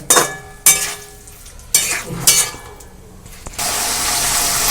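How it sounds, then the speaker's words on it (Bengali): Spice paste with Kashmiri chilli is stir-fried with potatoes in a pan: loud scraping bursts of a spatula come in uneven strokes, then a broad, steady hiss of frying takes over. "এবার মশলাটাকে একটু ভালো করে কষে নিতে হবে"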